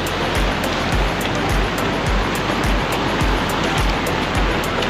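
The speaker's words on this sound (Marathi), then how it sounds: "पाणी देखील नदीला इतकं आलंय खूपच" A powerful, continuous rush of a swollen, flooded river in Konkan after heavy rain roars close by, dense and unrelenting, with faint low thumps recurring underneath.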